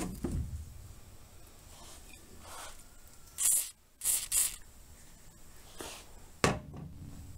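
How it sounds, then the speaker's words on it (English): Several short hissing bursts from an aerosol can of WD-40 sprayed as penetrating oil while replacing Ford F-150 U-joints, up close, separated by pauses and a few handling clicks. "now I'm going to spray some penetrating oil"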